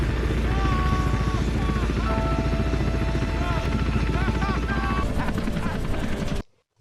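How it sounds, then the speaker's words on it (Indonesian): A patrol helicopter flying in, its rotor chopping loud and steady under narration, with a warbling tone layered over it, before the sound cuts off abruptly at the end. "helikopter yang berpatroli pun datang dari arah yang berlawanan"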